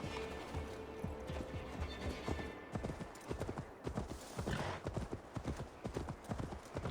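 Horse hooves clip-clop in Assassin's Creed Valhalla, a rapid, uneven run of sharp knocks that picks up pace midway, with occasional softer background sounds and no talk.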